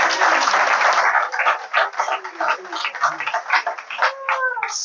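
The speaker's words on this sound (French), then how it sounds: "Applaudissez-moi ça." An audience applauds at a political speech during the 2025 Ivorian presidential race, a dense patter of clapping that swells, then thins into scattered claps and fades under background voices.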